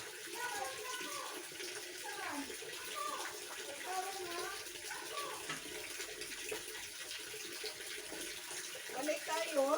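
Water is poured and splashed while a goat is bathed, a continuous close running and sloshing sound with faint voices in the background.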